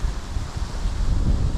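Strong wind gusts roar steadily against the microphone outdoors during gutter cleaning, a dense low buffeting rush with no voices.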